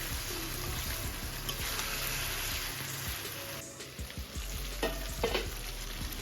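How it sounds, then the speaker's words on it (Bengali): Young chicken sizzles with spices in a wok as it is sautéed, a close, continuous frying hiss broken by a few scrapes and stirs of the spatula. "তো এই যে মাংসটা আমি দিয়েও দিয়েছি মশলা কষিয়ে"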